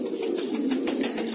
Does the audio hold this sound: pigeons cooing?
yes